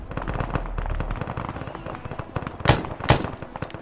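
Gunfire in the video game Arma 3, set in a New York City zombie attack: rapid automatic shots crackle in bursts, then two sharp, loud close reports ring out near the end.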